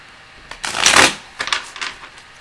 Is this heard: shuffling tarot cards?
yes